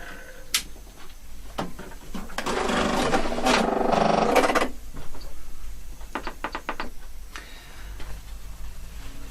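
A sewing machine stitches a shawl collar in one sustained run of about two seconds, preceded and followed by sharp ticks and clicks of handling the fabric and machine, close and fairly loud.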